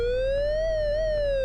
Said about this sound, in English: Got a very odd siren, that